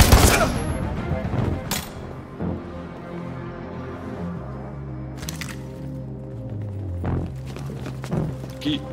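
A sharp gunshot blast opens in the video game Detroit: Become Human, followed by more shots and rumbling game effects, loud and close, with scattered bangs later.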